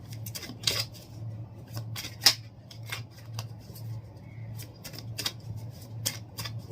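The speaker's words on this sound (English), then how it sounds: "Shuffle this." A tarot card deck being shuffled by hand, with crisp, irregular riffling and snapping of cards in quick bursts, close and fairly quiet.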